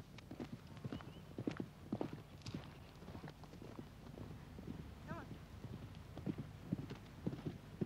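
Hooves of wild Waler horses in the Northern Territory clip-clopping in an uneven, repeating rhythm at close to moderate range, with a brief whinny and light wind in the background.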